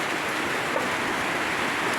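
Steady rain falls in a broadband hiss around an outdoor food prep area, a continuous even wash of drops with no break across the whole stretch.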